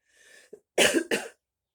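A soft throat sound, then two sharp, close coughs in quick succession, followed by silence.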